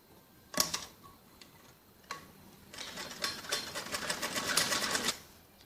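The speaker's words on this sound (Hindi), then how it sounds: "बड़ा नंबर करके हम पूरी दोनों घघरी पे ऐसे ही सिलाई लगाएंगे" A sewing machine stitches a gathered frock skirt with a long stitch setting, starting with a few isolated clacks, then a steady run of rapid mechanical ticking for a couple of seconds before stopping.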